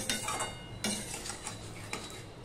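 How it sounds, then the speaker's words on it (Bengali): Sweet pumpkin greens being mixed in a pan with sugar, a spoon scraping and clinking against the metal in a few soft, irregular strokes, faint and close. "এবার সম্পূর্ণটা আমি মিশিয়ে নিচ্ছি ভালো করে"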